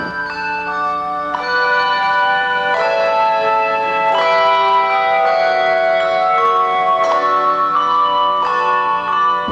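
Handbells play a slow melody, clear ringing notes overlapping and sustaining with a bright, chiming resonance.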